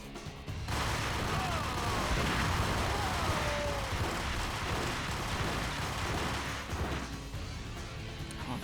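Grenade blasts in the video game Max Payne, a dense continuous roar of explosions and crashing debris that fills the whole stretch after a brief quieter start, loud and sustained with a voice occasionally under it.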